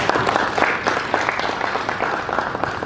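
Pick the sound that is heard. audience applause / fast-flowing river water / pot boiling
audience applause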